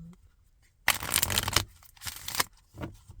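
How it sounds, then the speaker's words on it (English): A deck of cards being shuffled up close: three rapid riffling bursts, the first longest, then two shorter ones separated by brief quiet gaps. "Let's go ahead and shuffle."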